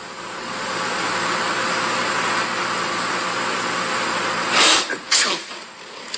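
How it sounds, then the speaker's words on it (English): A loud sneeze bursts out near the end, followed by a short sniff, after several seconds of steady broadband noise. "Okay, Flunk, you sneezed"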